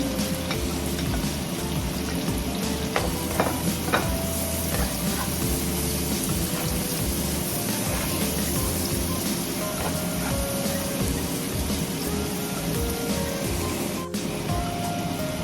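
Garlic fries in a pan for beef mechado, filling the space with a dense, steady sizzle and crackle, with occasional stirring clicks and no speech.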